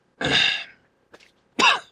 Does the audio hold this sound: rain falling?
no